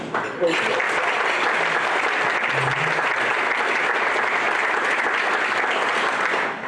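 An audience at a Rotary meeting applauds Cincinnati Police Department officers, a dense, steady wash of clapping that starts abruptly and holds loud throughout, with a brief voice underneath early on.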